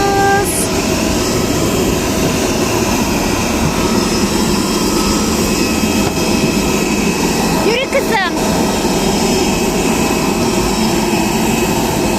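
A passenger jet roars loudly and steadily from inside the cabin during boarding and flight. A short chime and faint voices sit under the drone.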